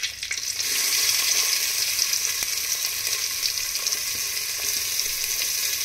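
Chopped onions for masala khichdi go into a hot pan; the sizzle jumps up within the first second, then holds as a loud, even hiss with a few light crackles, and no voices.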